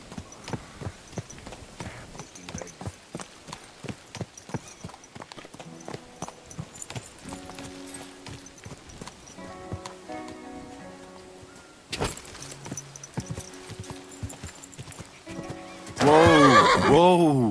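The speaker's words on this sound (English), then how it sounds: "This must be the ugliest horse I've seen in my" Horse hooves clip-clopping and a horse neighing in the medieval video game Kingdom Come: Deliverance II, steady hoofbeats for most of the clip, a louder whinny near the end, with faint rain and ambient game sounds beneath.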